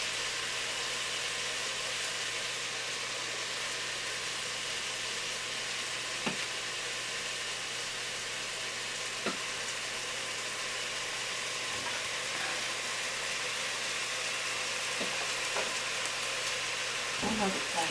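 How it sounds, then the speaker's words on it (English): Chicken, vegetable and couscous soup simmering in a pot, a steady soft sizzle and bubbling hiss running throughout with a few brief clinks, under a low constant background hum. "let it simmer"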